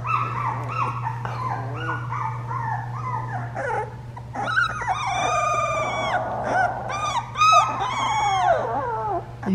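Two-week-old Labrador puppies whimper and whine together, a dense, close chorus of high, wavering cries and yips that rises into louder overlapping squeals, with no talking.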